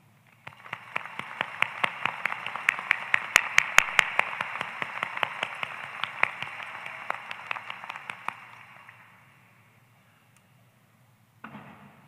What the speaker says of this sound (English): So students, let's give them a hand.